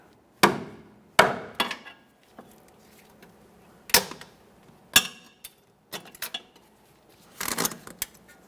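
Sharp metallic taps of a hammer on a pry bar strike at irregular intervals, about nine in all, some single and some in quick pairs, close and fairly loud with quiet gaps between, while replacing a Toyota Corolla's inner tie rods.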